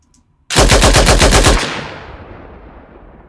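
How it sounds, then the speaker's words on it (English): A Lewis gun machine gun fires a loud, rapid burst of about ten evenly spaced shots for roughly a second, then a long echoing tail that fades out, with no other sounds. "Next up is the Lewis gun, which was developed by the Americans and used by the British Army."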